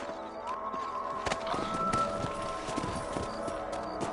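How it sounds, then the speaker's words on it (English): Horse hooves gallop in a quick, rhythmic clip-clop across open ground in a Western-style video game, steady and fairly close throughout, with scattered light knocks and scuffs over a low rumble. "Let's get back on the horses and see what else is going on."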